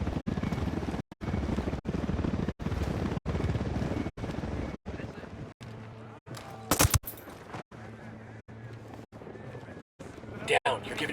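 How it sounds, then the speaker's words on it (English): A helicopter chops steadily in the video game Ghost Recon Wildlands, its regular rotor thumps loud and continuous across the whole stretch, with brief gunfire-like cracks and voices over the top. "Chopper, hit the dirt."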